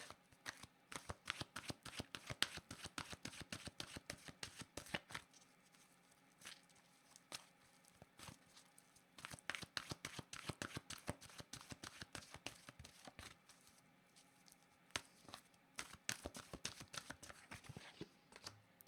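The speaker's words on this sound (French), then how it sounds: "Je vais demander une carte de mon oracle de l'âme intuitive." Oracle cards are shuffled close up in a long, continuous run of crisp riffling clicks and slaps, with brief pauses between bursts and no talking.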